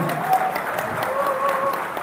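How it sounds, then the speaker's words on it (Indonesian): An audience at a business discussion forum applauds Anies Baswedan, producing a brief, moderately loud wash of clapping with faint voices mixed in. "Bapak Ibu sekalian, tepuk tangan untuk Pak Anies Baswedan."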